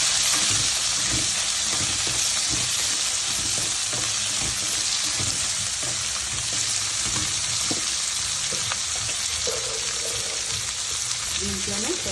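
Green chillies and curry leaves fry in hot oil in a pan, giving a loud, steady, close crackling sizzle with occasional stirring scrapes and knocks, and no talk over it.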